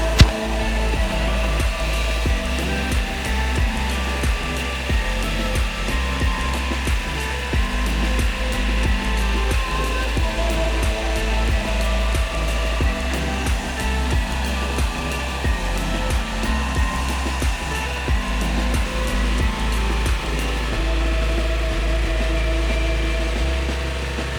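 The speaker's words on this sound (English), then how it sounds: "we use the gutter vacuum once we clean the roof in order to hoover up any of the fallen moss" A gutter vacuum hoovers fallen moss out of roof gutters after a roof clean in Warrington, giving a steady, loud, unbroken whooshing roar for the whole stretch, with faint rattling debris flecks and no voices.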